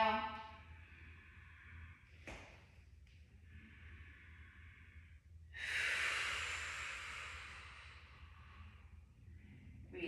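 Steady, close breathing during a tricep dip exercise with optional marching, several soft airy inhales and exhales with one longer, louder rushing breath midway and no talking.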